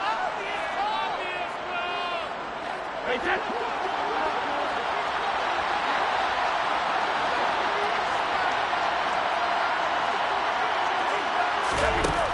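Dense stadium crowd roar fills a video game American football match from start to finish, a steady loud wash with a commentator talking over it.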